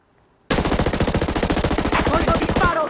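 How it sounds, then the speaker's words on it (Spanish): Sustained automatic gunfire in the video game Ghost Recon Breakpoint, a loud rapid rattle of shots starting abruptly after a short quiet moment and continuing steadily to the end. "¡Oigo disparo!"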